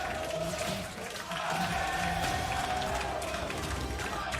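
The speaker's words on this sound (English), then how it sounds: "The crowd in Berlin is alive with the name of Flamengo eSports." Arena crowd at the 2019 League of Legends World Championship play-in stage in Berlin, a loud steady roar of cheering and chanting that fills the whole space and briefly dips before swelling again.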